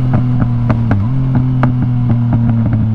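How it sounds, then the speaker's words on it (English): A 2019 Yamaha MT-09 motorcycle idles with a steady low rumble while sharp exhaust pops crack out irregularly, close and loud. "Listen to these pops."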